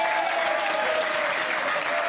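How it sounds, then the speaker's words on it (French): A TV studio audience applauds the show's guests with steady, dense clapping that stays even across the short stretch, and a faint tone runs underneath it. "Applaudissements pour eux, merci."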